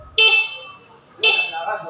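Two short, loud motorcycle horn honks from a Motorstar Easyride 175FI close by, about a second apart, each a bright buzzing beep with quiet between them.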